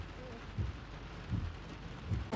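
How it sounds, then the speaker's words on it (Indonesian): Heavy rain hisses steadily as a dense, constant wash, with low rumbles of thunder swelling up several times through it. "Mendung hitam bergulung-gulung dan hujan tiba-tiba turun."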